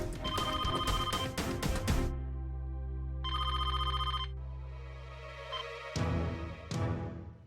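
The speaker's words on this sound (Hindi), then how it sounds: "अरे फोन बज रहा है भाई।" Telephone ringing indoors in a home setting, a series of clear bell-like rings in bursts with pauses between, fairly close and alone over a low background hum.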